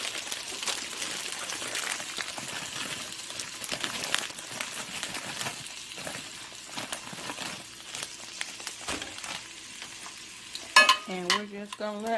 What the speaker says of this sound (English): we're just going to let our seasoning blend saute over in this butter until it starts to brown